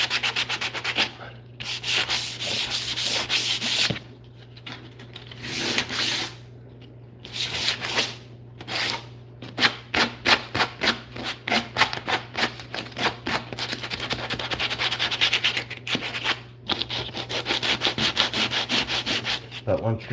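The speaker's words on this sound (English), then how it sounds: "by gluing it and then sanding it, you fill in the cracks a little bit" Sanding glued wood by hand with 80 grit sandpaper: coarse rhythmic scrubbing strokes, near and loud, with brief pauses before a quicker, steady run of back-and-forth rubs.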